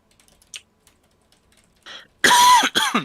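A single sharp cough rings out near a quiet room, followed a beat later by a second rougher cough and throat-clearing burst, with faint clicking from a keyboard and mouse during a computer game session.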